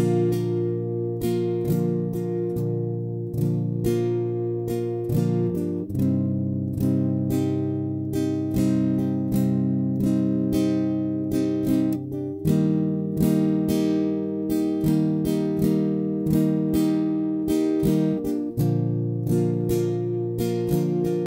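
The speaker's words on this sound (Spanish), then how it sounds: "Y vuelve a comenzar, lento se escucha así." Guitar strummed slowly in a steady repeating down-and-up pattern, close and moderately soft, chords ringing between even strokes with no talking.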